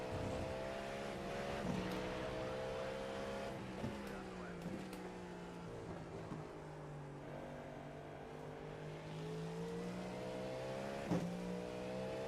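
A Ferrari race car engine at Watkins Glen during a six-hour endurance race, a steady droning whine with gradual pitch shifts as it accelerates and changes gear, heard from in-car with a voice speaking over it.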